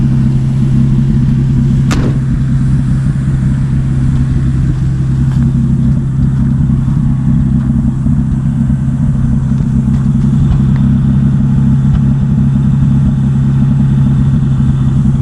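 A 1950 Dodge Meadowbrook engine idling steadily, with a constant low rumbling drone that stays even and loud for the whole stretch, with no talking and only a single brief click near the start.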